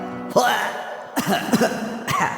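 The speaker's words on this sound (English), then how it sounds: "I actually just coughed something up." A few rough coughs from one person in quick succession, close and fairly loud, with short pauses between them.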